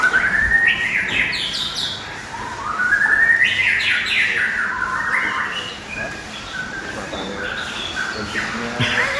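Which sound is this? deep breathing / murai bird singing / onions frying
murai bird singing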